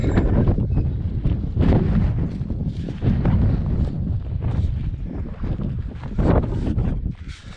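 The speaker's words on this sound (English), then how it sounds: "wind finally picked up a little bit" Steady wind gusts roar across an outdoor microphone beside a homemade wind turbine built from a car alternator without permanent magnets, rumbling loudly in surging bursts throughout with no talking.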